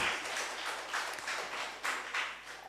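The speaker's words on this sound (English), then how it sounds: "Please give her another clap." Audience clapping at a children's book launch, a modest scattering of hands heard faintly at a distance, rising and falling in soft uneven bursts for a couple of seconds.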